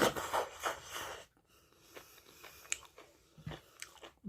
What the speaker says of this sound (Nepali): ल दाल भात है खाएँ है त।